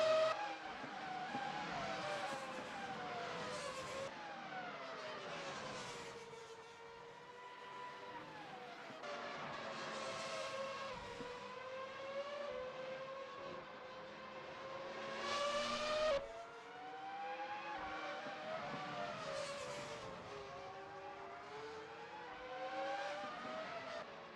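Several V8 racing engines in a racing video game, at Indianapolis, roar and rise and fall through gear changes, overlapping continuously with whining revs and occasional tire noise, loud and close, with no talking.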